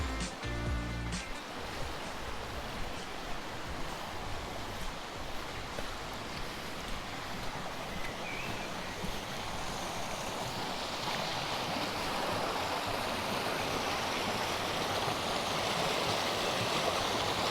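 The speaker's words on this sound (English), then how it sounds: "And down alongside, of course, is our creek and river." A creek beside a forest track at Lilydale Falls, Tasmania, rushes in a steady, continuous wash of water, close and even throughout, with a brief knock at the start.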